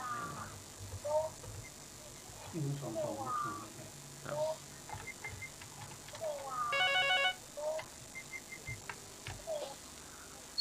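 A telephone rings with an incoming call during a live stream at a temple in Chiang Mai, a short bright electronic ringtone burst heard faintly amid quiet room noise and intermittent talking.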